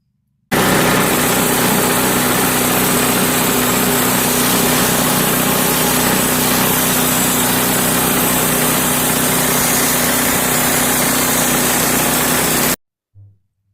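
The engine of a Woodland Mills HM126 sawmill drones loud and steady for about twelve seconds while the mill cuts an oak log, then it stops abruptly.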